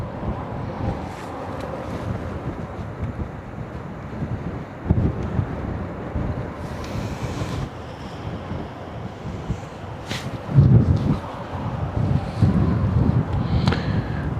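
Wind blowing at the Westerschelde shore buffets the microphone in continuous gusty rumbles and hisses, with occasional stronger bursts and faint background noise from the waterway.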